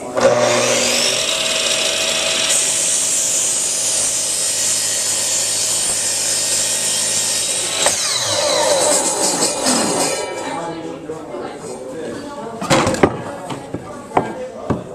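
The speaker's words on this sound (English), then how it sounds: "we're going to cut the length of our school bus with this miter saw" A miter saw cuts the length of a wooden school bus model, a loud sustained whining cut running for about eight seconds and then winding down, followed by scattered clacks and handling noises.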